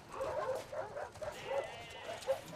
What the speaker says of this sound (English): Oh, there's lots of dogs.